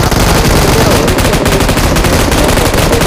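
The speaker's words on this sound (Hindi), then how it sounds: "हम मशीन गन चलाने लग गए हैं" Sustained machine-gun fire in the BGMI (Battlegrounds Mobile India) battle royale game, loud and close: a dense unbroken stream of rapid shots lasting the whole stretch.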